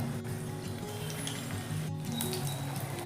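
Besan-coated eggs fry in very hot oil over a medium flame, giving a steady, even sizzle at moderate volume with faint clinks and no voices.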